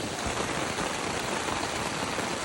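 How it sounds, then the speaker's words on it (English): Steady rain patters densely on a taut tent close by, a constant fine hiss of drops with no voices. "the tent has been holding up really well for how much it's been raining"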